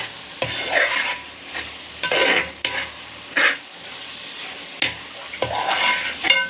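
Onions and tomatoes with ginger-garlic paste frying in a pan for biryani, with a spoon stirring in uneven strokes: repeated scraping swishes over a steady sizzle, close and moderately loud, no talking.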